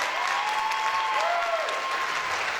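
Audience applause fills the hall for a candidate on stage at the Prodige Haut de France 2022 queen election, a steady dense wash of clapping, with faint tonal sounds gliding over it.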